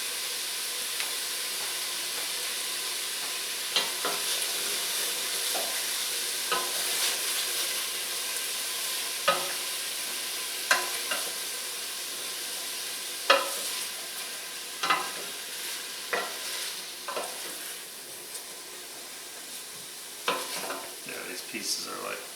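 Small cubes of lobster sizzle in a hot pan for pesto, a steady soft frying hiss broken by repeated light scrapes and clicks of stirring.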